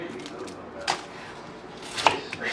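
A white onion being chopped with a knife on a cutting board, with two crisp, close knife strikes separated by a quiet pause.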